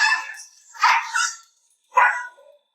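A restrained aggressive dog snaps and barks in a close, loud burst of two harsh yelping barks, then a short pause and one more sharp bark.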